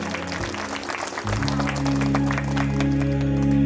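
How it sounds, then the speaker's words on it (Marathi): Loud, dense applause from an audience at a Shiv Mahapuran religious discourse in Pavnar, Wardha, swelling after the first second and continuing steadily with a low hum beneath. "जोरदार टाळी वाजली पाहिजे"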